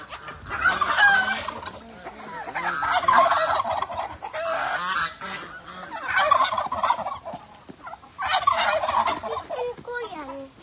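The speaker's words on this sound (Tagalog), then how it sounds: "Big turkey is there." A big turkey gobbles repeatedly in loud, rapid bursts close by, with chickens clucking around it; four or five gobbling calls come in quick succession with short pauses between.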